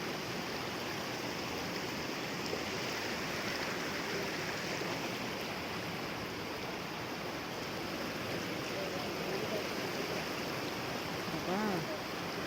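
Steady, continuous rushing of a river swollen after heavy rain, an even wash of noise with no breaks, heard from nearby.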